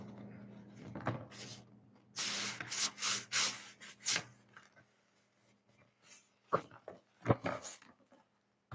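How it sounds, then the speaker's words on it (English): A dog barks in short, sharp bursts, some clustered and some single, with quieter gaps and faint clatter between them. "Oh, I hear a dog barking up there."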